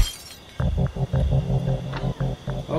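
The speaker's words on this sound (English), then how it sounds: "Break the glass?" Glass breaking in the stealth game Thief Simulator during a break-in, an abrupt shatter followed by a rhythmic run of clinking, tinkling bursts over a low hum.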